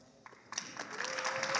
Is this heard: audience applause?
yes